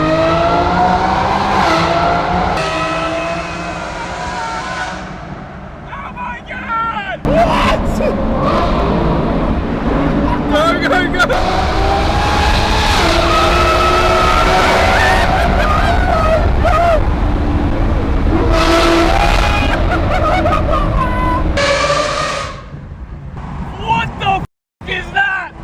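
A Lamborghini Revuelto launches hard from a standstill, its engine roaring loud and close as it climbs through the revs with brief shift gaps, running almost continuously before cutting off near the end.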